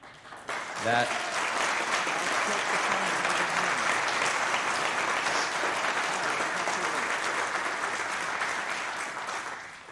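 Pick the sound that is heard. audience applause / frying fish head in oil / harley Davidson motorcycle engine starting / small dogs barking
audience applause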